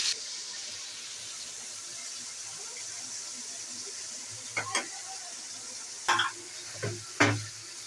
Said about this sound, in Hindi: तो यहाँ पे प्याज मैंने 6 अदद ले मैंने प्याज डाल दी हैं।